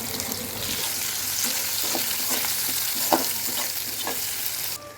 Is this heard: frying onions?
yes